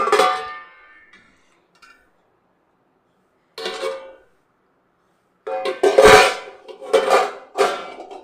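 A steel plate is set inside a pressure cooker in a home kitchen, making sharp metallic clinks and clatters in short bursts separated by silence. The last clatter is the loudest and most sustained.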